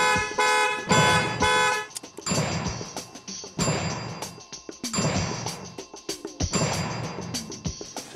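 A car horn honks in repeated bursts, loud and close, with pauses between blasts that fall into an uneven rhythm.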